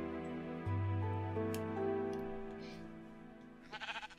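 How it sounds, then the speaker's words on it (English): A Minecraft sheep bleats in a single wavering cry, fairly close, followed by a shorter second bleat, with a few faint game ticks and clicks in the quiet background. "I hear a sheep."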